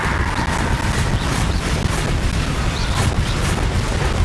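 Heavy booming blast of a Bombarda explosion spell in the game Hogwarts Legacy, a dense continuous rumble with repeated crackling bursts layered on top.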